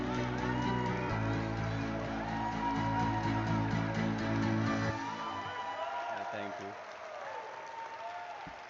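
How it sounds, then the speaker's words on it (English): Audience applause fills a hall at the NSE listing ceremony for the Physics Wallah Limited IPO, a dense, steady round of clapping with some cheering that thins out toward the end. "with a huge round of applause, please welcome Mr. Alak Pandey"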